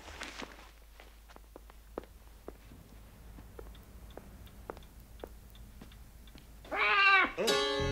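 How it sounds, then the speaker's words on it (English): Soft, evenly spaced footsteps tap across a quiet room, then a cat lets out a sudden loud, drawn-out meow close by at the end. "I didn't know you had a cat."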